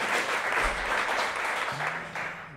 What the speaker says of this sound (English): Now, applaud for them.